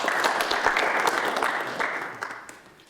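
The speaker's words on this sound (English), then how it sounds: "So, round of applause for Annette and John, please." A short burst of applause from a small audience, scattered claps that fade out toward the end.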